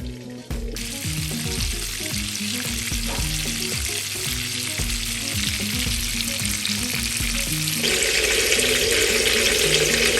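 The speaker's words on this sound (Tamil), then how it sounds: "இதை ஃப்ரை பண்ணி எடுக்க வேண்டியதுதான்." Fish fingers fry in a wide pan of hot oil, a loud, continuous sizzle with bubbling crackle, accompanied by low clattering and tonal hum, growing slightly brighter near the end.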